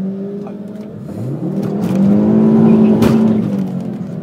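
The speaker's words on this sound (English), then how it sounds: "I'm going to do a little wheel spin." A Ford Focus ST doing a short wheel spin at a drag strip, the engine revving up to a loud sustained whine that swells and eases, heard close with no talk.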